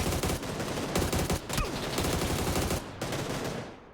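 Rapid, dense gunfire in PUBG on the Sanhok map rattles almost continuously, loud bursts overlapping with a few brief pauses, like automatic weapons firing in close succession.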